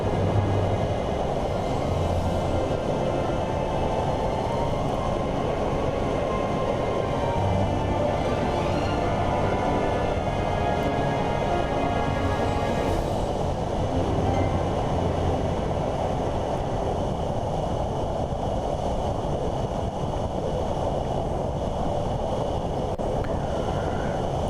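A microlight aircraft in flight turning to line up with a runway, heard from on board as a loud, steady engine drone with constant wind rush, unbroken and with no talking.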